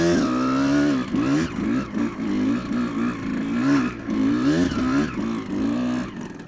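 A car drives on snow, its engine rising and falling in repeated rev swells, loud and close throughout.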